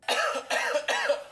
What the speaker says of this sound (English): Oh, me coughing.